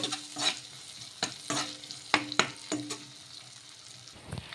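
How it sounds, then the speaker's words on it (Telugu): Poha ingredients stirred in a frying pan, a soft oil sizzle broken by several sharp scrapes and knocks of a spoon against the pan, close and intermittent. "కొన్ని ఇళ్ళు కూడా వేసేసుకొని ఒకసారి బాగా కలిపేసుకుందాము"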